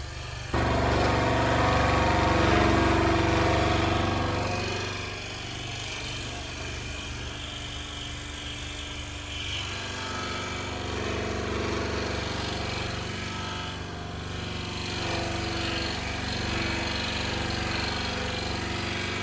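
Saw fitted with a number 9 blade cutting the interior pieces of a hardwood lidded jewel box, a steady loud buzzing drone that runs the whole time with slight shifts in pitch and strength.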